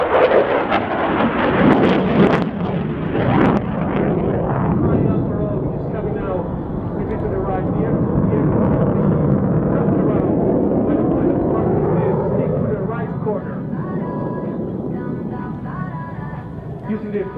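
A military jet roars through an airshow display roll at the Royal International Air Tattoo. The loud, rumbling engine noise swells and fades while a commentator talks over it.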